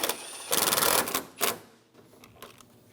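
A ratchet tightens 10mm bolts on the valve cover of a 2007-2012 Nissan Altima, with bursts of rapid metallic clicking up close, then quieter, sparser clicks trailing off.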